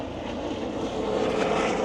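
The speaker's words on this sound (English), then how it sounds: "As helicopter man flies over." A helicopter flies overhead above a Florida canal at Lake Ida, its engine a steady broad drone that swells slightly louder near the end.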